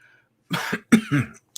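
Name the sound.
cough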